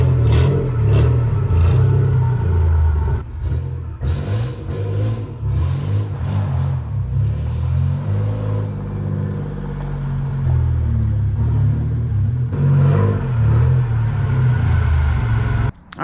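A Chevrolet Camaro engine runs steadily in a garage as the car is slowly repositioned, a loud low rumble with small revving swells and brief dips throughout, with no one speaking.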